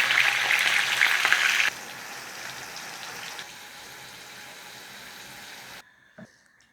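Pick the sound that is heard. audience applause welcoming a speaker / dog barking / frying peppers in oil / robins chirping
frying peppers in oil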